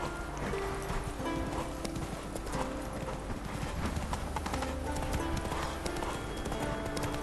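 Horse galloping in The Witcher 3, a steady fast drumming of hooves that runs throughout, mixed with game sounds and a brief whinny.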